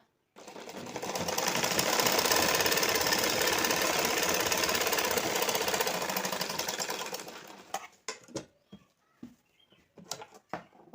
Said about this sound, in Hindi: अब मैं इस पर सिलाई चलाऊंगी